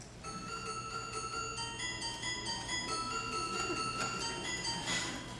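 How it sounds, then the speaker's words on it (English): Toy piano interlude of bright, tinkling tonal notes played as a short melodic phrase, with a faint room hiss underneath and a brief noisy rustle near the end. "You will also hear a toy piano."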